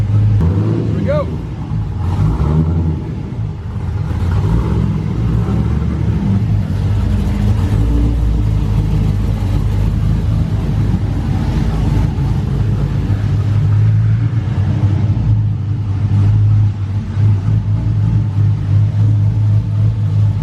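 A GTO's engine hums and rumbles steadily with low, continuous revving throughout, heard from inside the car while driving.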